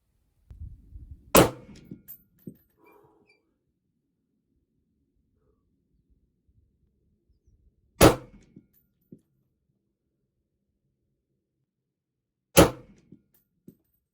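A .338 Federal rifle fired with 200-grain loads, one round striking a chronograph: three sharp, loud reports spaced several seconds apart, each followed by a brief rattle, with near silence between them.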